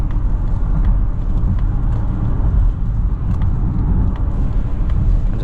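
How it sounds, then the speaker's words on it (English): Steady road and engine rumble inside a 2023 Mazda CX-50 GT Turbo 2.5L cruising on the highway, a continuous loud low drone with tire noise and no talking. "I'll just give you a chance to listen and see how it is to drive."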